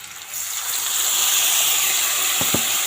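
Spice paste of green chilli and white mustard poured into a pan with Malabar spinach, giving a loud, steady hissing sizzle that swells and holds, with a couple of small knocks near the end.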